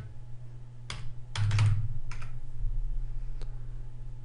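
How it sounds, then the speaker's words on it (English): Keys on a computer keyboard are typed in short bursts of clicks with pauses between them, entering a router manufacturer's name into a search field in a quiet room. "we're going to type in Linksys as the manufacturer"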